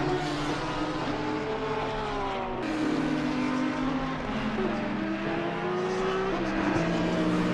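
GT3 race cars in Assetto Corsa Competizione, multiple engines whining and shifting gears in a dense close pack, loud and continuous with overlapping upshifts and downshifts, no talking.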